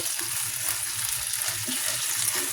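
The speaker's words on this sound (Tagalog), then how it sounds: "Gigisa lang natin yung corned beef." Corned beef sautéing in a pan, a steady close sizzle with faint stirring scrapes running throughout, no voices.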